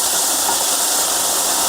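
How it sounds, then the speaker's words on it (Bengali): Washed cucumber pieces hit hot oil where radhuni spice has been frying, setting off a loud, steady broadband sizzle that holds throughout without any talking. "এই যে ভাজা হয়ে যাবে রাঁধুনিটা, বেশ একটু সোমবারের গন্ধটা আসবে, তখনই এই সব ধোয়া শশাটা দিয়ে দিলাম।"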